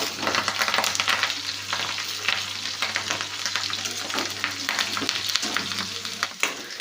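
Ivy gourd pieces fry in hot oil with curry leaves, a steady loud sizzle broken by repeated scraping and clattering as the pan is stirred throughout, with no talking.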